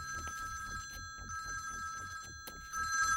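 A mobile phone rings with a repeating electronic ringtone, steady bright tones in regular pulses, fairly close and clear with no talk over it.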